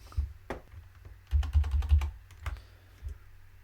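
Close, quiet tapping on a computer keyboard, irregular keystrokes with a brief fast burst in the middle, no talk.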